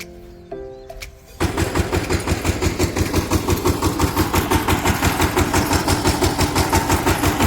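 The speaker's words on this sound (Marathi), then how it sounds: "काय करतो ट्रॅक्टर चालू चालू करत आहे" A tractor engine on a farm in Sindhudurg, Konkan turns over and catches, then settles into a loud, steady, rapidly thumping diesel idle close by.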